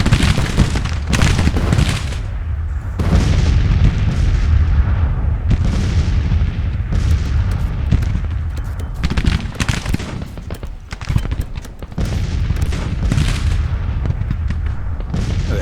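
Loud, dense Civil War battle sounds in the strategy game Grand Tactician: rolling artillery booms and crackling musket volleys overlap almost without pause, the roar dipping only briefly between salvos.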